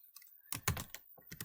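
Quick clusters of keystrokes on a computer keyboard, close and crisp, a light patter followed by a few louder clacks and a final short burst, with no talking.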